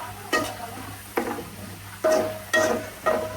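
Sliced onions frying in chicken-fried oil into crisp beresta, with several sharp stirring scrapes at a steady rhythm over a soft continuous sizzle, close by.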